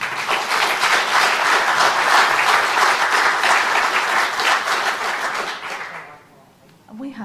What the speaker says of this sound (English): let's give a big round of applause to our interesting,